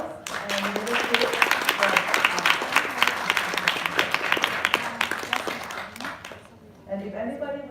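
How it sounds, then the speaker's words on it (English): An audience at a storytelling event applauds steadily for about six seconds, a dense wash of clapping that fades out, followed by a voice speaking briefly at the end. "So with a round of applause"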